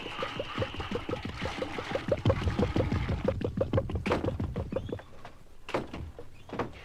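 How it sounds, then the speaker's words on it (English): Household doors opening and closing in a city home during a busy morning, a run of quick knocking, rattling clunks and latch sounds, fairly close, followed by a few sharper isolated door bangs as the activity settles. "And then the doors opening and closing."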